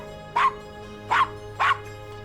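A small dog named Castro in the Gabriel Knight game yaps three times in sharp, evenly spaced barks, clear and close over a steady low background hum.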